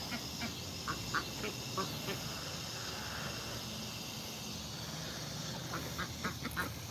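Ducks quack in short intermittent calls around a backyard flock of ducks and chickens, set against steady outdoor background noise, fairly faint and without talk.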